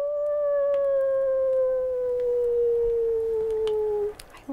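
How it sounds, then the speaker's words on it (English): A lone wolf howl rises as one long, sustained, slowly falling tone that sounds distant yet clear, ending abruptly after about four seconds with no talk over it. "You all hear a distant howl."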